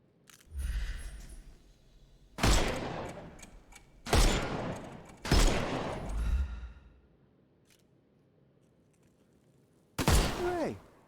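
Gunfire in the video game Sherlock Holmes Chapter One, with four loud close shots or short bursts spread over several seconds, each trailing off, separated by quieter stretches of game ambience and no speech.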